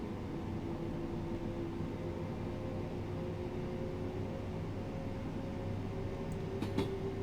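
Train departing Falmer on the East Coastway route in the game Train Sim World 2: a steady low rumble and hum of the train pulling away, moderately quiet and continuous, with a faint brief clink near the end.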